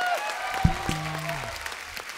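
A studio audience at a comedy talk show applauds, a soft spread of clapping underneath a loud musical sting with sustained tones and a sliding low note.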